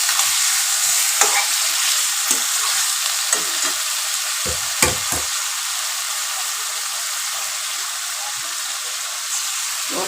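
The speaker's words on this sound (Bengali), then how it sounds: "এই মাংসটা হবে কষানোর উপরে সুন্দর হয়, এটাকে যত কষাবে" Chicken with spices stir-fried in a pan, a steady bright sizzle throughout with scattered scrapes and knocks of the spatula, close and fairly loud with no talking.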